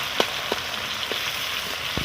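Onions and green chillies frying in hot oil with whole cumin, a steady soft sizzle broken by a few sharp crackles and pops, close and alone without talk.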